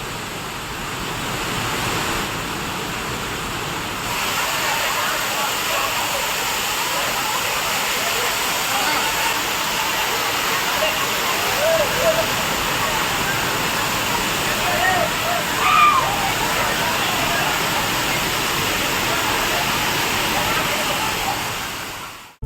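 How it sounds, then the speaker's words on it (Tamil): Sudden flash flood surging down the Thoni river in the foothills near Tiruppur, a steady broadband roar of rushing floodwater that continues unbroken throughout, loud and close, with no voices over it. "நிலையில் திடீரென வெள்ளப்பெருக்கு ஏற்பட்டிருக்கிறது."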